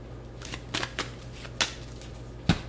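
Playing cards being shuffled by hand, a few short riffling bursts spaced unevenly over a steady low hum, close and fairly quiet with no talking.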